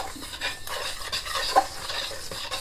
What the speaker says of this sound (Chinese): 然后用筷子把它稍微搅拌一下